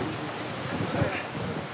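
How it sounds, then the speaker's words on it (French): Strong night wind buffets a sailing ship, the replica frigate Hermione, as a continuous rushing, roaring gust with no clear breaks, loud and close to the microphone. "Il y a trop de vent."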